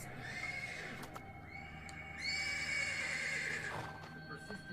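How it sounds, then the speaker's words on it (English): A horse neighs persistently in the stables in the video game Black Book, giving a couple of drawn-out whinnies over quiet background ambience with faint hoof shuffling. "The persistent neighing of a horse can be heard from the stables."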